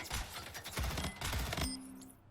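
Rapid bursts of gunfire from an indie multiplayer video game crackle in quick volleys, fairly faint, then cut to near quiet at the end.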